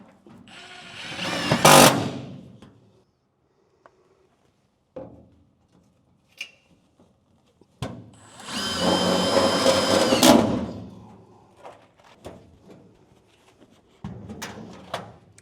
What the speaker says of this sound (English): now I'm going to lock this in with some Tetz screws